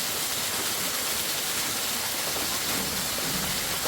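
Steady rain falls outdoors at a plantation, a uniform, unbroken hiss that stays level throughout with no other sounds.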